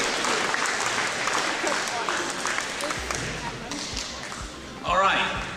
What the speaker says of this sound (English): Give Cheyenne another round of applause, please.